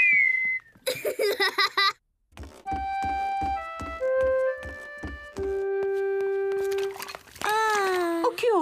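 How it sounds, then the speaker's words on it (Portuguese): A cartoon character whistles a short tune of clear, held notes at changing pitches. Bursts of childish giggling and laughter come just before and right after it. "George consegue assobiar."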